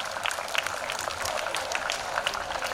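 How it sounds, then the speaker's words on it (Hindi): An audience at a school Independence Day celebration claps steadily to welcome a student performer, a dense, even patter of many hands throughout. "तो जोरदार तालियों के साथ स्वागत कीजिए महती बोडे का"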